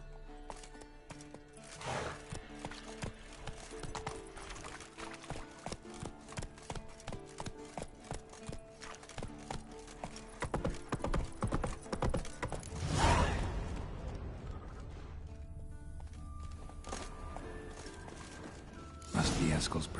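Galloping hooves of the horse Roach in The Witcher 3, a fast rhythmic clip-clop close up and running steadily, joined by jingling tack and a brief rushing whoosh, with a snort near the end.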